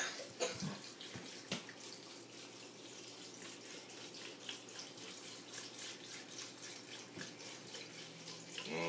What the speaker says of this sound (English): I'm going to pour vinegar in there.